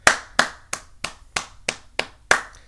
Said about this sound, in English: give the 2024 NBA Finals champions, the Boston Celtics, a 3-second clap